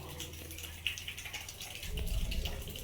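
Clean water pours out at an outdoor spot, a soft running splash that grows fuller and heavier toward the end, heard alone at moderate distance.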